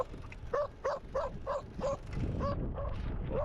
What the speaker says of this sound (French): Le chien, il protège son troupeau.